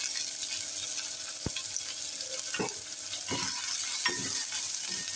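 Prawn fried rice ingredients are stir-fried in a pan over a bed of ginger and garlic, a constant near sizzle broken by several sharp scraping stirs of a spoon against the pan.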